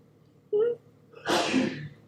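A person sneezes once, close and loud, after a brief sharp inhale, with the burst trailing off over about half a second amid quiet room tone.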